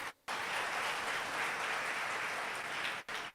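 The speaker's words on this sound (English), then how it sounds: "let us give them all a big round of applause." Steady applause from a crowd fills a conference hall, broad and sustained, with a brief gap at the start and a short dip near the end.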